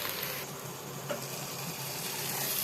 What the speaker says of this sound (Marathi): कांदा लाल तांबूस न होता मऊ होईपर्यंत परतून घ्यायचं आहे